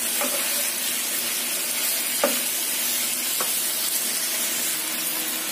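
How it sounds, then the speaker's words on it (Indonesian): Beef with onion frying in a pan as green onions are stirred in: a constant loud sizzle up close, with a few scraping stirs of the spatula against the pan. "kemudian kita masukkan daun bawangnya. Kita aduk sampai rata ya."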